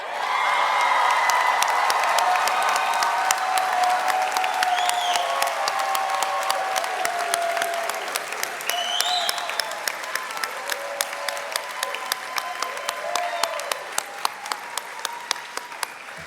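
A graduation crowd at the 2024 UCLA International Institute commencement applauds and cheers, a dense roar of clapping with whoops at first that thins out into scattered, separate claps toward the end.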